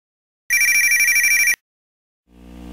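A telephone bell rings loudly in one sustained electronic burst of about a second, then cuts off, followed by a low rising hum near the end; no speech.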